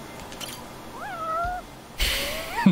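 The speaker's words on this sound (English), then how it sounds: "look for a cat. Hey, I found it." A cat in the video game Dark Souls III meows twice, a drawn-out rising and falling call, then after a burst of noise a second similar meow ends in a short low sound, over faint game background.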